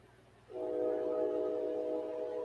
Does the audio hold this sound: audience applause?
no